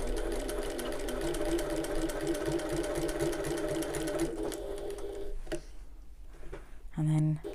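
A sewing machine stitches a bag lining around curves in a steady, rapid, close hum that slows and stops near the end, followed by a short whir.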